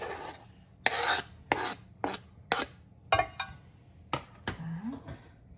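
A knife slices mushrooms on a cutting board with about nine crisp, close strokes in an uneven rhythm, with short pauses between them and no talking.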